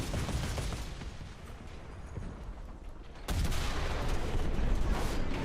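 A tank cannon firing in War Thunder, from an AMX 30 (1972) in battle: a dense, rumbling barrage of distant blasts that suddenly jumps louder about halfway through and stays heavy.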